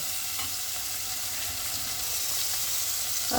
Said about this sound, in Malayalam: ഇനി ഇതിലേക്ക് തക്കാളിക്കായും ഉള്ളിയും പച്ചമുളകും കൂടെ ചേർത്ത് കൊടുക്കുന്നുണ്ട് അത് നല്ലോണം വഴണ്ട് കിട്ടട്ടെ